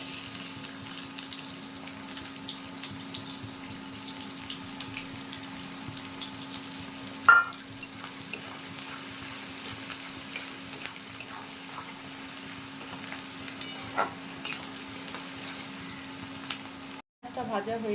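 Whole spices and onion frying in oil for a fish and potato curry, a continuous low sizzle with scraping stirs, a sharp clank midway and a steady hum underneath.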